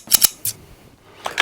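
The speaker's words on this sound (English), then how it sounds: "You can use your scissors" Scissors snipping while trimming decals for a 1987 Kyosho Cosmo RC car kit: two quick close cuts, a third a moment later, then another pair of crisp snips at the end.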